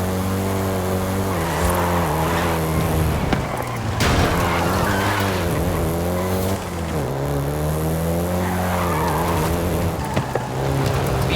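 A Volkswagen Golf GTI driven in the video game Forza Horizon 5, set in Mexico: a steady, loud engine drone rising and falling through the gears, with brief tire squeals, heard alone throughout.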